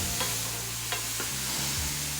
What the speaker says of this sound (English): And stir that in, and you're gonna cook that for about 2 minutes.